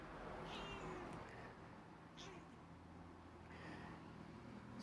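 A cat meows a few times, drawn-out and slightly whiny, up close over a low steady background hum.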